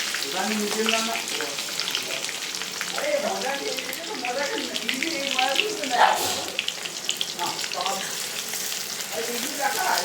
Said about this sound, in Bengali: তো এখানে পেঁয়াজ ভাজা হচ্ছে, পেঁয়াজটা হালকা হালকা এই দেখো ভাজা ভাজা হয়ে গেছে।